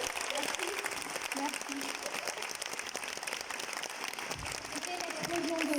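An audience at an evening gourmet event breaks into sustained applause, dense continuous clapping filling the room, with a voice speaking faintly over it.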